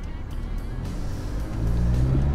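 A 2022 Isuzu MU-X 1,900 cc diesel 4x4 automatic pulls away on a test ground, a steady low engine drone that swells louder toward the end, heard close with no talk.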